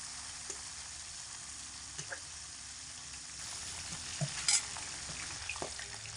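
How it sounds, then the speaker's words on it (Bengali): Small pieces of sea-caught bhola fish fry in well-heated oil in a pan, a steady close sizzle and crackle with occasional scraping knocks as the pieces are turned, no voices. "পুরো ছাড়া ছাড়া ভাবে মাছগুলো ভাজা হচ্ছে"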